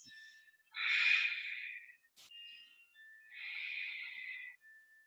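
Two long, airy breaths during a yoga backbend stretch, each a soft, close inhale-exhale swell lasting over a second, separated by a brief pause, heard alone in a quiet room.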